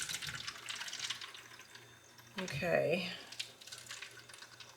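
Water runs from a tap to fill a turkey brooder waterer, a brief rushing flow in the middle amid quieter handling noises, with a short spoken word.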